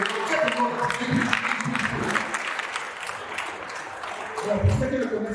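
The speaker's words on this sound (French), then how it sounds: "On applaudit encore" Audience at a live comedy show in Pointe-Noire breaks into sustained applause, a dense, steady wash of clapping from a crowd, with voices audible beneath it throughout.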